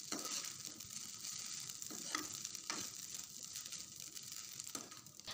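Egg fried rice with salt and garam masala being stirred in a hot pan, with a steady sizzle and intermittent scraping strokes, close and fairly quiet.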